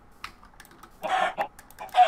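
Video game chickens give short clucks in a few separated bursts, close and clear against a mostly quiet background, with faint clicks between them and no talking.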